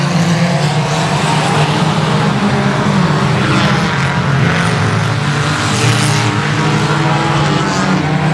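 Race cars roaring around the oval at Boothill Speedway, a continuous loud, dense engine drone that swells and fades as the pack sweeps past, with no talk.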